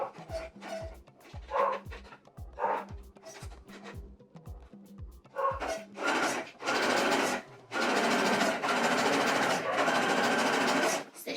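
A sewing machine stitches a curved seam in biker shorts fabric, running in short start-stop bursts that grow into longer continuous whirring runs, close up, with no talk.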